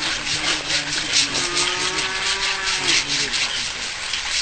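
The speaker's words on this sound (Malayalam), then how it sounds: "ആനക്കൊമ്പിന്റെ 9 കിലോയോളം തൂക്കം വരുന്ന ഭാഗം വാളുപയോഗിച്ച് മുറിച്ചു നീക്കുകയായിരുന്നു" A hand saw cuts through the tip of a captive elephant's tusk, a section weighing about 9 kg, making steady, close back-and-forth rasping strokes in an even rhythm throughout.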